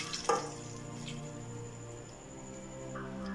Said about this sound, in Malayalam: ഈ തൈരൊന്ന് നന്നായിട്ട് തിളക്കട്ടെ കേട്ടോ